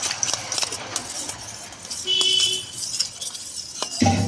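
Chilli fish sauce being stirred with water in a bowl, a spoon clinking and scraping against the sides in quick, uneven taps, with a sharper knock near the end.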